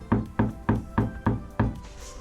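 A campervan's lower panel fitted with two sound deadening strips is knocked by hand, giving five evenly spaced dull, damped knocks close up, with no talking.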